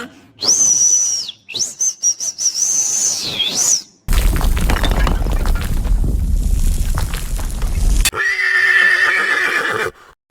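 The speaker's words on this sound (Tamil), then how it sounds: "குதிரை சத்தம் கேக்கு" An animated cartoon horse whinnies in loud, rising-falling calls, broken by a burst of rumbling, hoof-like noise, then a steady high whistling tone at the end.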